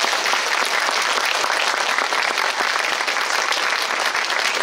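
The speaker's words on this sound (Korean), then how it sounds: "이번 행사를 위해 준비해 주신 황정민 배우님께 박수 좀 부탁드릴게요" An audience at a live talk event applauds the actor, with dense, continuous clapping filling the room at full volume throughout.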